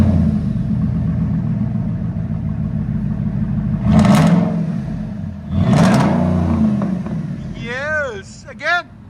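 A straight-piped 2010 Ford F-150 with a 5.4L Triton V8 and true dual exhaust rumbles at idle, then gives two loud, sharp revs. People talk nearby between and after the revs.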